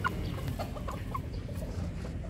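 Gamefowl rooster of the Mount Banahaw butcher line clucking softly, a few short, low clucks over steady farmyard background noise, fairly faint and close.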